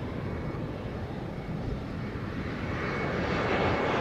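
An airliner approaches the runway at Montego Bay airport, its engine roar a broad steady rumble that swells gradually louder toward the end as it nears.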